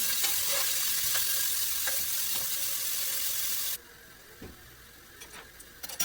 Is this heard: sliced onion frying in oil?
yes